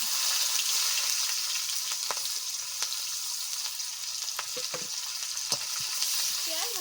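Chopped onion frying in oil with whole garam masala and a bay leaf makes a continuous close sizzle, punctuated by occasional clicks and scrapes of a spoon stirring the pan.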